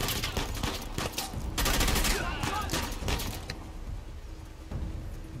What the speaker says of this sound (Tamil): ஷார்ட் கன் வச்சு போட்டுட்டு இருக்கானுங்க